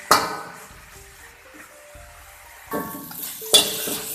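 Shredded cabbage stir-fries in a pan for a Chinese dish, a soft steady sizzle broken by a few sharp clinks of a utensil against the metal near the end.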